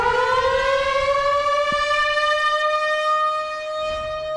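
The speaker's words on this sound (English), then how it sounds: "That is the sound of one of the last emergency sirens here in Yellowstone County." A civil defense emergency siren in Yellowstone County wails loudly and steadily, its tone rising in pitch and then holding, heard alone with no talking.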